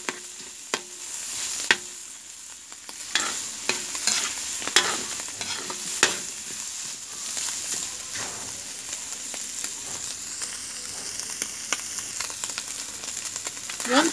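Pork innards frying in rendered fat for dinuguan in a pot over a smoky wood fire, a steady moderate sizzle with scattered sharp pops and crackles.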